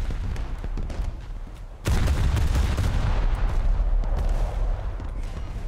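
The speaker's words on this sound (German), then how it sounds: "Ich werde hier auch gerade von rechts beschossen, sehe ich gerade." Incoming gunfire in a War Thunder battle: after a quieter lead-in, a sudden loud burst of shots starts and continues as a dense, rattling barrage of cracks and rumbling impacts.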